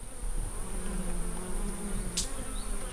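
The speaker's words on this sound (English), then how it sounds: "there's some bees that are, looks like they're recovering what has been lost" Bees buzz around a wild honeycomb fallen from a tree hive, a close, wavering drone of several insects with one passing near, over a steady high outdoor hiss.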